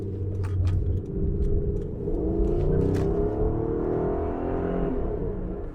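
A 2003 Mitsubishi Magna TL, third-generation facelift, running close by with a deep, steady engine rumble that rises in pitch as it revs, loud and continuous, with no talk.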